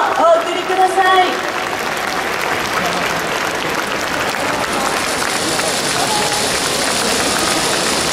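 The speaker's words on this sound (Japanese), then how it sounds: "今一度大きな拍手をお送りください" Applause from a festival crowd in Tokyo after a yosakoi group dance, a dense steady wash of clapping lasting throughout, with a brief voice and a short musical tone at the start.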